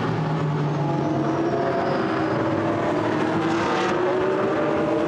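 GT race cars at Misano circuit, Blancpain GT Sports Club, run in a pack behind the safety car, giving a steady loud engine roar with shifting pitches throughout and no speech.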